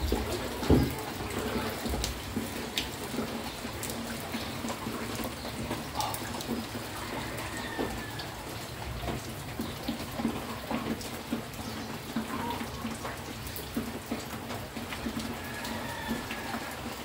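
Continuous rushing of rising floodwater during Typhoon Enteng, a soft steady wash of flowing water with faint bird calls and small splashes at a distance, quiet and unbroken, no clear talking.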